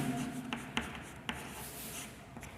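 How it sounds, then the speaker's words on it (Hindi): Pen scratching across paper as a class 10 chemistry teacher writes out an answer by hand: soft continuous scribbling with a few sharp taps and strokes, close and quiet, with no talk. "तो हम यहाँ आंसर लिख लेंगे"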